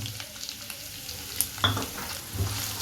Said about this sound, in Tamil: வெங்காயத்தை சேர்த்தாச்சு இதை நல்ல பொன்னிறமாக வதக்கி எடுத்துக்கலாம்